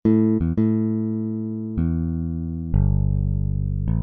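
Logic Sculpture synthesizer plays its Factory Bass Electric Fingered Bass preset, a handful of plucked low bass notes, each sustaining and decaying before the next, close and alone.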